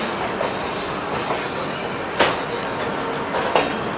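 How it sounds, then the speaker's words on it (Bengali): The Azad Hind Express rolls out of Howrah, heard from inside an AC three-tier coach as a steady rumbling roar with occasional sharp clacks of wheels over rail joints. "হাওড়া থেকে ট্রেন ছেড়ে পরবর্তী স্টপেজ আসছে খড়গপুর জংশন"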